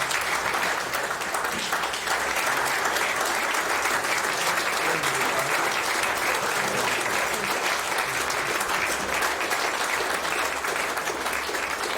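Sustained, even applause from a seated crowd at a Queensland Boxing Hall of Fame award presentation, a dense, loud wall of clapping that carries unbroken for the whole stretch with faint murmurs underneath.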